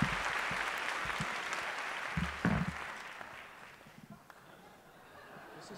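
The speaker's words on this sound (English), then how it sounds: "Let's give these young artists another round of applause." Audience applause at an arts performance and gala for young artists, a broad wash of clapping that gradually thins and fades, with a few low murmurs and scattered voices in the room.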